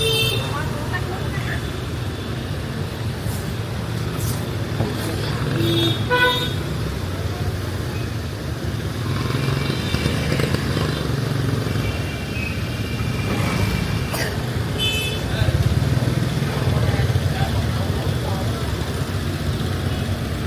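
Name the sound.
street traffic with car horns and motorcycles in Da Nang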